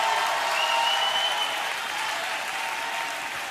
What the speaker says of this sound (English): take 15 good seconds, clap those hands, and give God the mightiest shout of praise